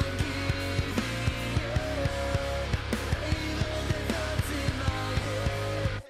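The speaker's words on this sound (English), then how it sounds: "if you want to hear the mix without the master, it sounds like this." Unmastered mix of a pop punk song plays alone, dense and continuous, with a steady pounding kick drum, driving band and sung melody at moderate level, ending abruptly.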